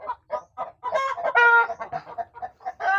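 A chicken clucks close by in a rapid, uneven series of short calls, with a few louder drawn-out squawks in the middle, clear and unmasked by any talk.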